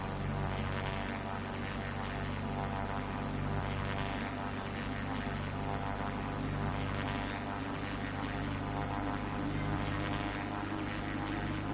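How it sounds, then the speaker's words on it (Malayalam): An airplane takes off in a mobile video game, heard as a continuous loud drone of propeller and engine noise that holds steady and close throughout, with no talking. "എന്നിട്ട് ഇതാ ഞാൻ ഫ്ലൈറ്റ് പൊക്കുന്നു"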